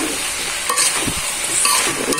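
Bakwan fritters frying in hot oil, a dense continuous sizzle with a few stirring scrapes and bumps, close and fairly loud, with no voices.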